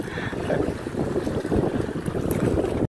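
Strong wind roars across the microphone in a continuous low rush at sea off Bani Island, Northern Samar, with the churn of rough open water beneath it and no talking.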